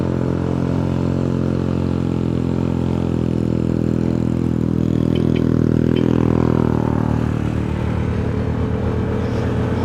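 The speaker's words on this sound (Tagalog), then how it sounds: "Mga ganitong paakyat, talaga masusubukan ng lakas ng motor." Honda ADV scooter engine straining while climbing a steep uphill road, a steady droning hum that rises slightly in pitch, loud and continuous with wind noise.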